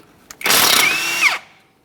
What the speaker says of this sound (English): you'll be using a 17mm to remove the mounting nut